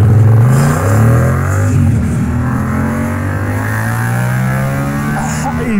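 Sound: Yamaha MT-07 motorcycle revving with Arrow exhaust

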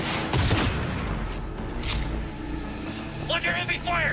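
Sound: heavy gunfire in video game Cyberpunk 2077

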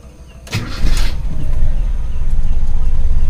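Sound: Toyota Kijang car engine starting

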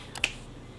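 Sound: finger snap

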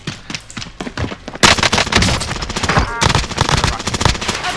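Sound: gunfire in Call of Duty Modern Warfare video game

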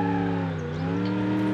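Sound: van doing a burnout in BeamNG.drive video game

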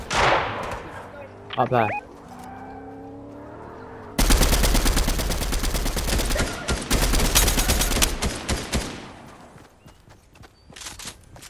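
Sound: gunfire in the video game Fortnite

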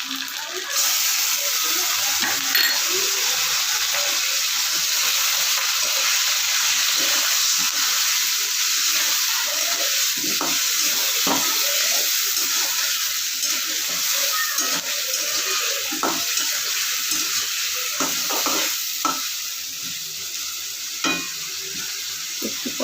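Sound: onion and garlic paste frying in a pan

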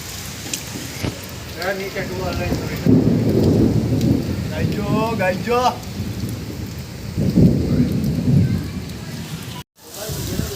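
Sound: rain

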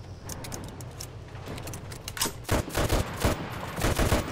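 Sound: gunfire in Enlisted multiplayer video game

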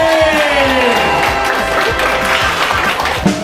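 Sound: audience applause for a stand-up comedian

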